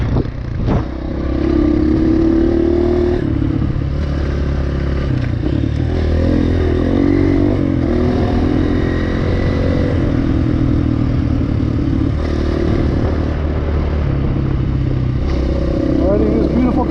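An enduro dirt bike rides through soft sand on a single track with a loud, continuous engine drone and some clatter, and the rider's voice can be heard over it.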